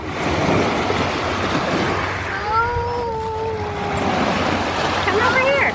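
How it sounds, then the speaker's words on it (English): Waves wash steadily onto a lakeshore in a continuous, fairly loud surf wash with wind across the microphone, while a voice and a higher child-like call rise over it. "The waves keep taking me."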